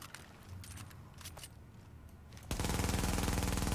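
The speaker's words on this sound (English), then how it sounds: "what it's like shooting an MP7 without the reload speed" Rapid MP7 submachine gun fire in the shooter game The Division, loud dense bursts that begin abruptly partway through after quieter clicking and rustling handling sounds.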